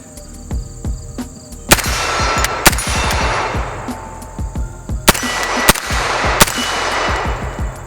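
A CMMG Banshee MK10 pistol in 10mm, fitted with a heavier 8-ounce buffer, fires a string of about ten loud, close shots in an uneven rhythm, each crack ringing out with metallic clangs between them.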